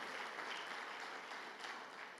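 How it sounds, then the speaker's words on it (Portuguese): A church congregation claps hands for Jesus in a continuous, fairly quiet and distant patter of many palms, fading slightly toward the end, with no talking. "eu vou pedir para você usar a mão mais uma vez, as palmas para Jesus mais uma vez"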